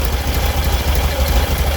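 A car engine fitted with a single IDF carburetor running 50 idle jets with mixture screws at 1 1/4 turns out idles steadily, a loud, close, low rumbling throb with no talk over it.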